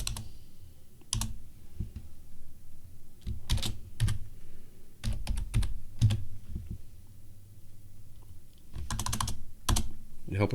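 Someone types on a keyboard while configuring Samba: close, sharp key clicks land in scattered bursts and single taps, with quiet gaps between them.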